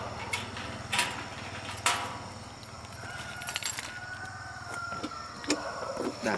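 Several chickens in Vietnam cluck and crow at moderate distance, with intermittent calls over a low steady background hum.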